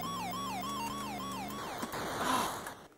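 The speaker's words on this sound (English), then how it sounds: "The ambulance took out a car and took out me in the process." Warbling electronic ambulance siren from an Atari 2600/7800 homebrew racing game, a chiptune wail sweeping up and down steadily, then breaking into a noisy crash-like burst near the end.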